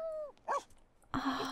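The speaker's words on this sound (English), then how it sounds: "The sound of puppies." Dalmatian puppies in The Sims 4 give a couple of short, high yips and barks, close and brief with a quiet gap between them.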